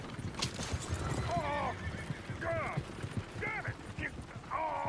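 Several horse whinnies ring out over a steady clatter of hooves and creaking coach wheels in a Valentine street in Red Dead Redemption 2, each neigh a short wavering cry, with background chatter underneath.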